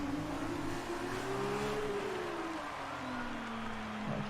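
Race car engine in the F1 2019 video game, a steady muddled drone that rises and falls in pitch as it revs through gears, continuous and fairly loud with no talk.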